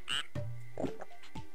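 A cartoonish frog croaks in the video game Ripened Tingle's Balloon Trip of Love, a few distinct, close, clear croaks with short gaps between them, heard alone.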